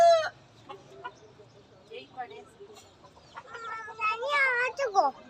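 Hens cluck and squawk in a rising, overlapping burst that grows louder toward the end, with quieter scattered clucks before it and children and adults talking nearby.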